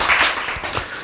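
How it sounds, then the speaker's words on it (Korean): A church congregation bursts into a brief round of clapping during a sermon: a short, fairly close burst of many hands that fades within about a second. "와, 박수"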